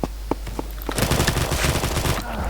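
Rapid automatic gunfire from the video game Combat Master rattles out in a dense, continuous burst after a few isolated shots, loud and close.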